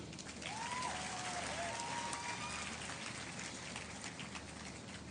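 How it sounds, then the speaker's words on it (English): An audience at a 2019 graduation ceremony applauds the graduating students with steady, dense clapping that sounds faint and distant, and a brief whistle-like tone rises near the start. "So have a round of applause for all of you"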